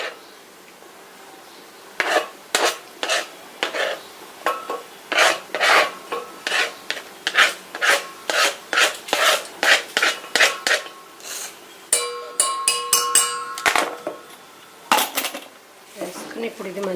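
Lobia vada batter with chopped mint and coriander being mixed, a steady run of rough rasping strokes at a regular rhythm, close and fairly loud, with a brief busier clatter partway through and no talking.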